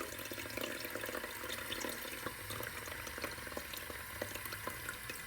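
Water runs and splashes steadily while artemia brine shrimp are rinsed, a faint, continuous trickle with small irregular spatters and no talk.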